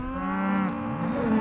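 A close, sustained moo from cattle being driven across Montana range, one long bellow rising and falling, then another starting, with no voices.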